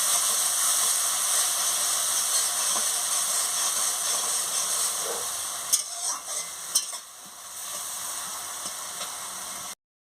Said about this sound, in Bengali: সরষা বাটার জল দিয়ে দিচ্ছি দিয়ে ভালো করে ভেজে নিচ্ছি